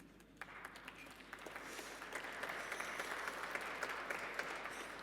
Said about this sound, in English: Thank you, brave applauders.